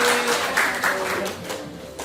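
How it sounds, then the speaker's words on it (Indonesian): A class of schoolchildren applauds together in a classroom, a short burst of brisk clapping that stays fairly loud and dense for about two seconds with a few voices mixed in. "Oke, tepuk tangan buat kita semua."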